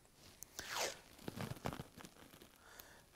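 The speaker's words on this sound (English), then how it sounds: "I'll just put that tape around it." Tape being pulled and wrapped around a kayak trolling motor part, with a few quiet, close tearing and crinkling bursts, one longer rip, and soft handling noises between them.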